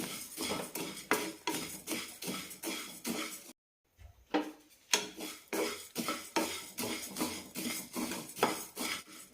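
Raw rice dry-roasting in a pan for porivilanga laddu is stirred with quick, rhythmic scraping and rattling strokes, about two per second, soft and close, with one short pause partway through and no talk.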